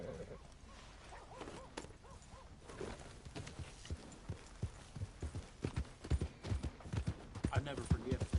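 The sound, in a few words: horse hooves clip-clopping in video game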